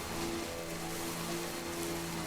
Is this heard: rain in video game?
yes